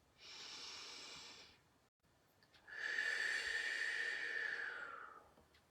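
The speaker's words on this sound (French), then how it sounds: "Et je vais vous inviter à prendre à nouveau une profonde respiration." A slow, deep breath during a guided breathing exercise: a long audible inhale, a brief pause, then a longer, louder breathy exhale, close and intimate in a quiet room.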